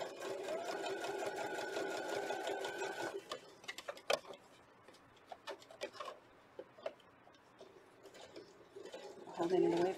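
Sewing machine stitching a towel with a pieced band, a fast steady whirring run for about three seconds, then scattered clicks and taps of handling, ending with a short burst of stitching.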